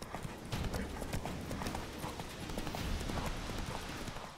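Horse hooves galloping in The Witcher 3 video game, a rapid continuous clip-clop of hoofbeats on a dirt path, steady and fairly faint, with no voices.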